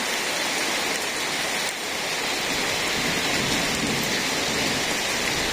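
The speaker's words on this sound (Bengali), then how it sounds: "আকাশে খালি দুমার শব্দ হয় আর ঠাড়া পড়ে" Heavy rain falls steadily in a rural village during a storm, a dense, even hiss of water that continues without pause.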